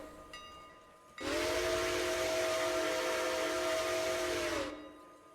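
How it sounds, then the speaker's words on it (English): Steam locomotive whistle in the Railroader video game: one long, loud, steady chime-like blast with a hissy edge, lasting a few seconds before cutting off cleanly. "We're gonna give him a new whistle."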